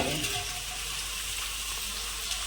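Red chillies fry in oil for gongura chutney, a close, continuous crackling sizzle that stays even throughout without speech.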